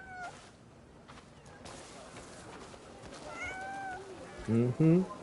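A cat meows repeatedly in the video game Crimson Desert, with two loud, close, harmonic calls near the end over a background of game ambience, and a person talks quietly earlier on.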